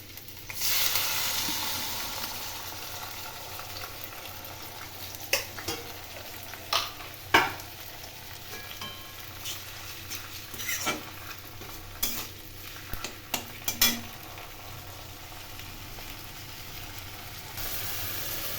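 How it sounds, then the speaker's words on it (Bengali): Small prawns fry in hot oil for a Bengali pui shak curry, giving a steady sizzle broken by sharp scrapes and clinks of stirring, close and clear with no talk. "কুচো চিংড়িগুলো একটু লাল লাল করে ভেজে নিতে হবে।"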